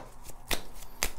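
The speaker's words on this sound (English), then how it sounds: "I'm going to shuffle these cards" Tarot cards being shuffled by hand nearby: a few short crisp riffling bursts separated by brief pauses, with no talking.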